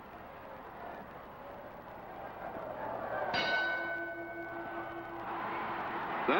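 A boxing ring bell sounds once during a classic Sugar Ray Robinson versus Rocky Graziano fight, a single sharp metallic clang that rings on and decays slowly over faint crowd noise.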